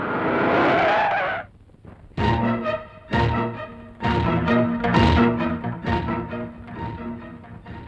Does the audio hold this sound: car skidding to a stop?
yes